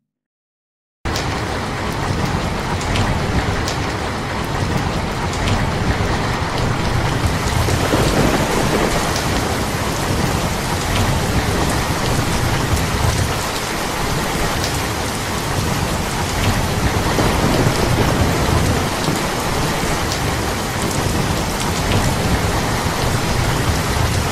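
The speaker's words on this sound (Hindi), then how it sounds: "बारिश शुरू हो गई" Steady, heavy rain pours down during a thunderstorm, with rolling thunder rumbling through the downpour. The sound is close, continuous and loud for the whole stretch, and no one speaks.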